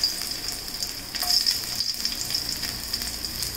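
Finely chopped garlic fries in hot oil in a large pan, a steady bright sizzle with a few louder hisses and faint stirring, close and continuous with no talking.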